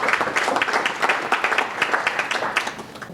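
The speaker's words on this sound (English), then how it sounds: "another round of applause for Datadog for having us here" A modest crowd at an IoT tech meetup applauding, with distinct individual claps audible in an uneven rhythm, moderately close and tapering slightly toward the end.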